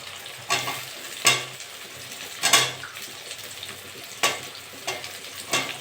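Shrimp and potatoes sizzle steadily in a pan while a utensil stirs them, giving several sharp scraping bursts at uneven intervals over the constant frying hiss, heard up close with no talking.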